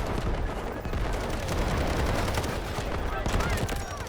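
Dense, continuous gunfire rattles in the video game Delta Force, loud and close, with bursts overlapping in an unbroken barrage.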